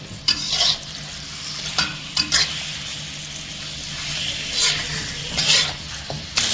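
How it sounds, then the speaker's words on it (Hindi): Chicken pieces frying in a karahi over a raised flame for black pepper chicken karahi, a loud continuous sizzle broken by several sharp scraping stirs of a spatula, with no talking. "फ्राई करते हैं थोड़ा सा गोल्डन शेड तक आने पर, और फ्लेम को अभी हम तेज़ कर देंगे।"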